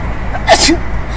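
A single sharp sneeze bursts out midway through, close and loud, over a low hum of background noise.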